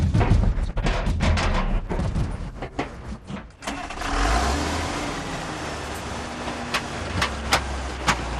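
A car engine cranking and starting after scattered mechanical clunks and door sounds, then settling into a low idle.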